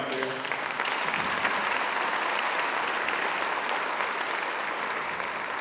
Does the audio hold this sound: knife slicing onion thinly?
no